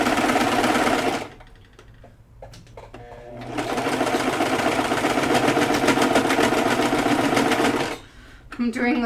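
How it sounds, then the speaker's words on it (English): A sewing machine stitches elastic on an ironing board, a rapid, rhythmic mechanical whir running in two long bursts with a pause between, close and loud, while a person talks over it. "the motion from my sewing machine is actually making it very bouncy"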